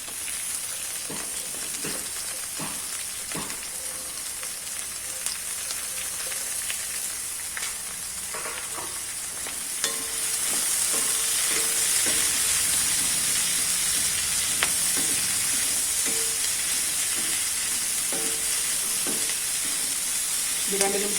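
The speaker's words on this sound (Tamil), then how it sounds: "இது 2 நிமிஷம் வதங்கட்டும்." Onions and mixed vegetables sautéing in a pan for a Tamil-style coconut milk vegetable stew, with a steady sizzle and occasional stirring scrapes, growing a little louder partway through.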